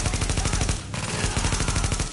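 Rapid automatic gunfire in The Division shooter game, dense loud bursts of shots continuing with a brief break midway, close and unrelenting.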